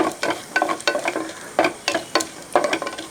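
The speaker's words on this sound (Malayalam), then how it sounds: "ആ എണ്ണ ചൂടായതിന് ശേഷം ഇതെല്ലാം കൂടെ ആ എണ്ണയ്ക്കകത്തോട്ട് ഇട്ട് കൊടുക്കും. അതിന് ശേഷം ഒന്ന് ഇളക്കി" Whole cinnamon, cardamom pods and cloves sizzle in hot oil for a Kerala-style beef curry, stirred in about eight quick scraping strokes that rise over a steady, close crackle.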